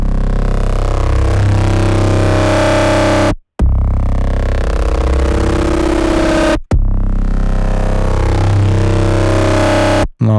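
Cinematic synth bass with a sine sub, heavily distorted, playing three long loud gritty sustained notes, each cut off by a brief silence.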